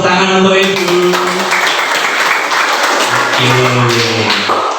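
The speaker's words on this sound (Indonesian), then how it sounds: "Kasih tepuk tangan untuk Edo" A classroom of students claps for a classmate, a loud, dense burst of sustained applause with voices talking over it at the start and end.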